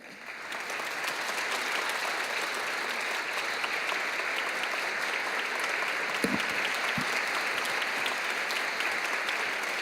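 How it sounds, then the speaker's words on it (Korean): Warm, steady applause from a Korean church congregation at Kwanglim Church welcomes a bass soloist and choir member, a broad even wash of clapping lasting about ten seconds with a couple of brief louder knocks. "이제 서준호 성도님 나오실 때에 큰 박수로 맞이하도록 하겠습니다."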